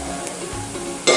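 Sliced onions, salted and tossed with green chili, ginger and garlic, sauté in a pan for an okra masala curry: a close, continuous sizzle with a sharp stirring scrape at the very end.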